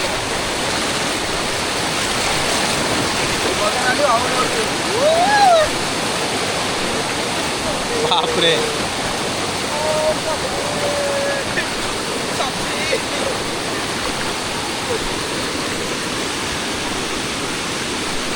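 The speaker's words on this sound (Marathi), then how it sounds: "झिरपीला केवढं पाणी आहे बघा" A rain-swollen rivulet in Konkan rushes with a continuous, close, roaring wash of water, while a voice briefly exclaims and talks over it.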